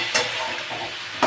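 Snake gourd curry with green chilli fries in a pan while being stirred, a soft steady sizzle with two brief scraping strokes of the spoon.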